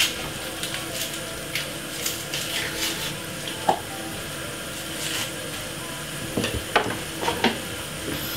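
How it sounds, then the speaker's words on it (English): Steady, crackling sizzle of carrot frying in a pan, with occasional louder clicks and scraping of a utensil stirring. "you will see it start to fry at the moment so that's the carrot inside of the frying pan"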